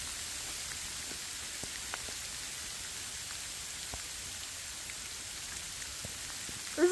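Steady rain falling on a trail in Shenandoah National Park in May, a constant soft hiss with scattered drops, moderately quiet and continuous without talk.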